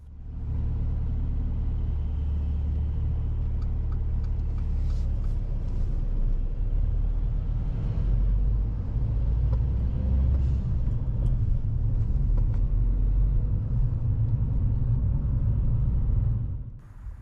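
Low engine rumble and road noise from a car driving down a road behind a bus, keeping a good distance. The hum holds steady and fairly close for the whole stretch, with a few faint higher rattles.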